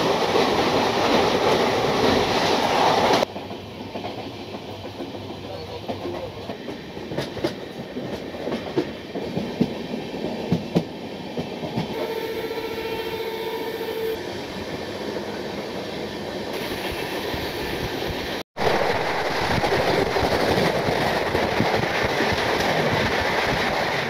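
The Padatik Express runs along the rails with a steady rumbling roar and rhythmic clatter of wheels, heard from inside the coach, easing to a quieter rolling hum before a loud, abrupt return to full noise.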